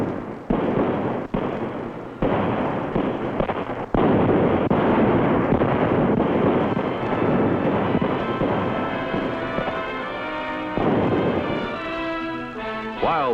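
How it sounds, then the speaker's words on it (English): A fireworks display over Tupper Lake, captured on an old 16mm film soundtrack: dense, continuous booms and crackling bursts with sharp cracks, loud and sustained, ending in fizzling sparkles and a rising whistle-like tail. "a brilliant fireworks display sends us on our way"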